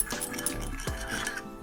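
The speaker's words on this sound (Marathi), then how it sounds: "हे पुन्हा मिक्स करून घेऊ।" A bowl of omelet batter with cumin and salt is whisked with a utensil, giving brief clinking taps against the bowl. The clink is quiet and close, with no talking.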